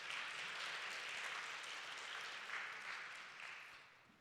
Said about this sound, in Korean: 예, 큰 박수로 환영합시다.